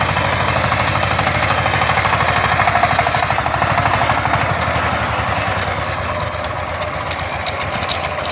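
A power tiller's small engine runs in a flooded village paddy field, a steady near, loud chugging drone with rapid regular firing pulses throughout.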